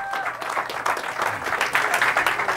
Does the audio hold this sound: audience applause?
yes